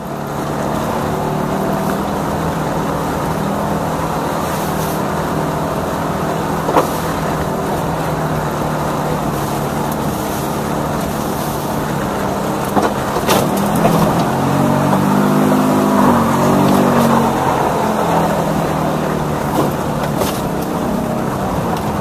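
A car engine runs flat out through muddy ruts in a northern trial, a loud unbroken drone that swells and strains at times over 22 seconds.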